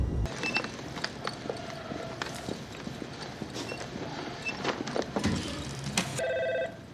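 A telephone rings with a short trilling burst near the end, heard over busy background noise, following a stretch of rhythmic clip-clop hoofbeats.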